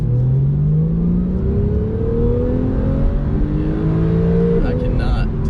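A Porsche 911 of the 991.2 generation, turbocharged with its engine over the rear, accelerates hard out of a corner. Its loud, close engine note climbs steadily through the revs with a brief shift near the end.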